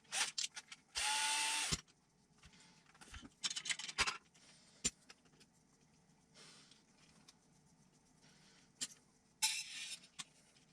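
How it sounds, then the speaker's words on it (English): A Ryobi power drill drives screws into a 1/6 scale crawler's wheels, with a loud whirring burst near the start, shorter revs later, and clicks and handling noises in between. "the bigger screws, I'll be able to do the good old trusty Ryobi"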